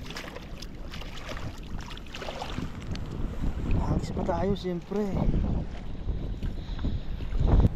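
Wind gusts roar steadily on a fishing boat at sea, with a voice talking briefly in the middle over the rush.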